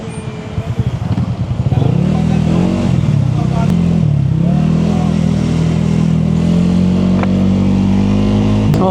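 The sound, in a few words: Honda Giorno 160cc scooter accelerating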